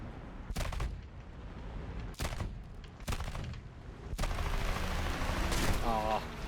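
Aircraft cannon in a flight combat video game featuring F8 jets: several short bursts of rapid gunfire, then a longer sustained burst under a steady engine roar.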